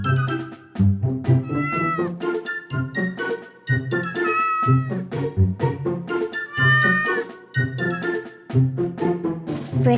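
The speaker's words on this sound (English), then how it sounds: "Siamese cat." A Siamese cat meows over and over, loud and close, in a long run of drawn-out, insistent cries with only short pauses between them.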